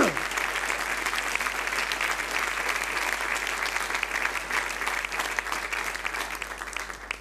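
A Spanish-speaking church congregation claps for a returning brother during a Sunday service, a thick, continuous roar of applause across the whole stretch, with a steady low hum underneath.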